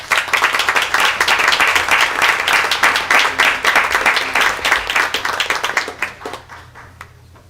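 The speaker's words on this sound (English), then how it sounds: "If you give them a round of applause." Audience at a school board meeting applauds students with dense, steady clapping that fades out over the last couple of seconds.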